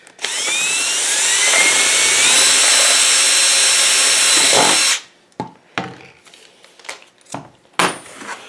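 A power drill whines loudly and steadily for about five seconds while boring a hole for a homemade chick waterer, then stops and is followed by scattered clicks and handling clatter.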